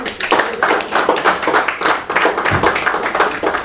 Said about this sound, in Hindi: तो मैं चाहूँगा सबसे पहले हम सब लोग एक दफ़ा कलम दोस्त के लिए भरपूर तालियाँ बजाएं।